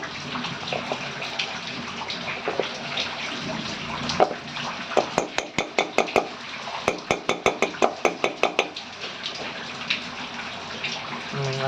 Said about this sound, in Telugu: ఒక లైట్గా ఒక్క నీళ్ళు వేసుకోవాలి. నీళ్ళు వేసుకొని కలపాలి.